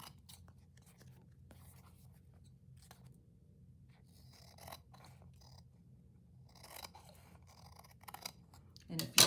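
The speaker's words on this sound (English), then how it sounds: "you can use your scissors to trim the edges and make them nice and neat." Quiet crisp snipping and scraping of scissors trimming the edges of recycled card, in short irregular bursts over a low steady hum, ending with a louder clatter.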